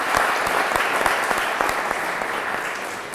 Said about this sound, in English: So you all should clap for them.